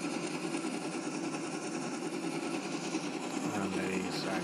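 A Minecraft engine built with valves, an overhead cam and a single piston runs in a video game, giving a fast, steady mechanical whir that stays constant for several seconds.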